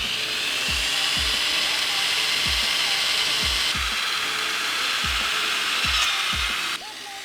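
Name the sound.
drill bit drilling into a car bolt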